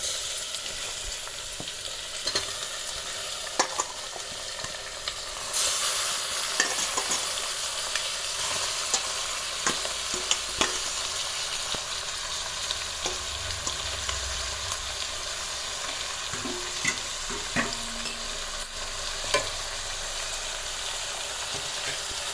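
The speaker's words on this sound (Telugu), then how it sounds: "మటన్ వేస్తున్నానండి పోపులు" Mutton stir-fries with spices in a hot pan, a long unbroken sizzle of oil with scattered clicks and scrapes of a ladle stirring the meat, close and fairly loud, without any talking.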